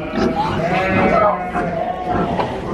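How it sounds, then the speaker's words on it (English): Sheep bleating at a farm alongside goats and other animals, several wavering bleats close by amid ongoing people talking and general barnyard noise. "Sheep. And some sheep."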